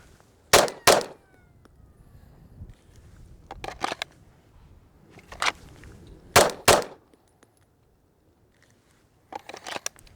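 Pistol drill shots crack sharply in quick pairs, repeated several times with pauses between, loud and close in an otherwise quiet setting.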